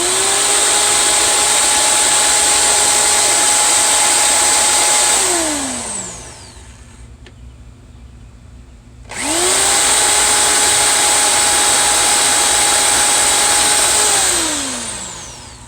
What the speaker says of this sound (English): so let's see how I can do drilling it out.